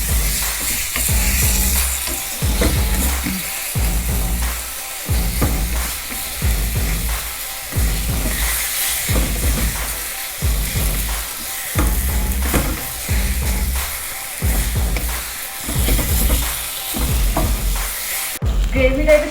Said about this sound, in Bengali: এবার কিন্তু আমি ভালো করে কষাবো যতক্ষণ না টমেটোগুলো গলে যায়।